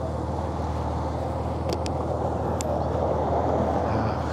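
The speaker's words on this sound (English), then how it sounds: "You hear the rumble of the yellow Porsche." A yellow Porsche's low engine rumble amid heavy city traffic on a Toronto street walk, a steady deep drone under broadband traffic and wind noise, with a couple of brief sharp high chirps midway.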